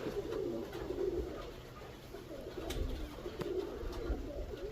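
Pigeons in a dovecote coo in soft repeated rolling phrases, fairly close, over a steady background hum, with a few brief clicks and rustles.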